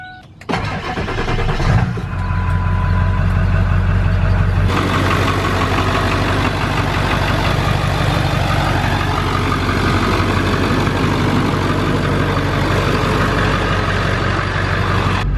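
A diesel truck with a newly replaced engine cranks, catches and roars to life, then settles into a loud, steady, rumbling idle heard up close for a long stretch.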